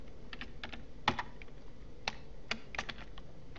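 Code being typed on a computer keyboard, with clusters of quick, crisp keystrokes and a few sharper key hits, close and fairly quiet with no talking.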